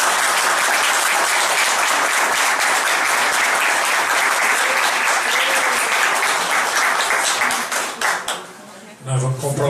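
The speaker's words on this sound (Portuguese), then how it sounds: "Peço uma salva de palmas." Spiritist lecture audience gives a loud, dense round of applause that holds steady for about eight seconds, then thins and dies away as a voice returns at the end.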